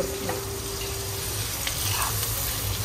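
Onion and chili fry in butter over a high flame, making a dense, steady sizzle close up, with faint stirring scrapes and no voices.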